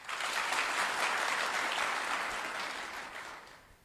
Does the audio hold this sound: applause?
yes